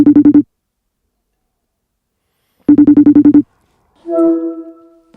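An incoming phone call rings in two bursts of rapid trilling pulses, a short burst and then a longer one, loud and close. A brief voice follows the second burst.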